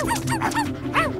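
Cartoon puppies let out a quick string of high, yappy barks and yips, several overlapping in close succession over a busy background soundtrack.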